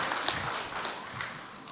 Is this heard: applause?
yes